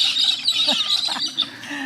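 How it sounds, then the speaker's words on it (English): Wild parakeets and lorikeets squawk and chirp continuously from nearby on Phillip Island, Australia, shrill overlapping calls with a few louder squawks, no voices. "we are being squawked at by, parakeets, lorikeets"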